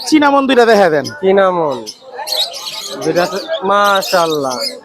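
Cockatiels chirping up close in a bird seller's setting, with loud repeated whistling calls and rising tweets filling the whole stretch.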